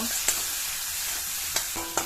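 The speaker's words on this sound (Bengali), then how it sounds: "এবারে ভালো করে পেঁয়াজটাকে ভেজে নেব" Onions fry in a little oil with bay leaf, salt and turmeric for a Bengali rohu fish kalia, giving a steady close sizzle broken by three sharp clinks of a stirring spoon against the pan.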